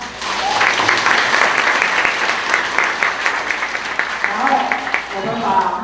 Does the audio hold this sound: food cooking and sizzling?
no